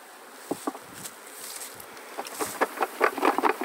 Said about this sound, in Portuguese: Chacoalha as abelhas para cair